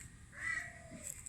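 A single crow gives a drawn-out caw at moderate distance, fairly faint against a quiet outdoor background.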